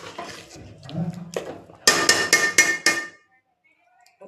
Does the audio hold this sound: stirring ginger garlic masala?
yes